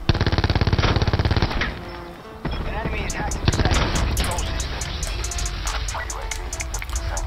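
Rapid shotgun and automatic gunfire rattles in a Call of Duty Blackout match, a loud sustained burst followed by a sharp boom and more scattered shots under game noise, with a voice talking over parts of it.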